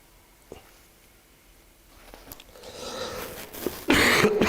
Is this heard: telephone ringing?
no